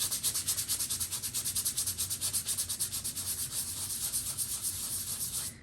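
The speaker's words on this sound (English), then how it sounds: "And I want to sand it till it's nice and smooth." Dried wood filler on a homemade hat stand is sanded smooth by hand in quick, rhythmic back-and-forth strokes, close and steady, gradually easing toward the end.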